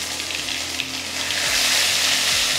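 Ginger paste fries in hot oil with whole white cumin and torn chillies, making a continuous sizzle that swells louder in the second half, with a few soft scraping strokes underneath.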